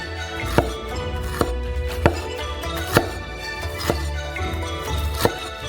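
Fresh peeled ginger being sliced thinly with a knife on a cutting board for a pork-belly and mushroom noodle dish: seven crisp, evenly spaced chops stand out above a steady background hum, with no talking.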